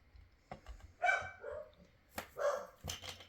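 A dog barks indoors in a few sharp, separate barks spread over a few seconds, fairly close and loud against a quiet room.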